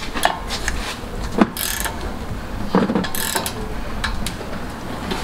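Brembo brake caliper bolts on a Genesis Coupe being tightened with a wrench, giving a few sharp ratcheting clicks and metallic clunks close by, spaced irregularly over steady background noise.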